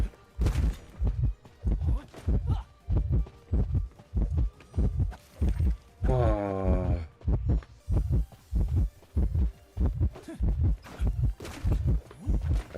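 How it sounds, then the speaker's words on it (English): An Identity V warning heartbeat thumps in a steady, loud double-beat rhythm, with a brief musical tone cutting in partway through. "Why do I have heartbeat? Oh, that's why Nika has heartbeat."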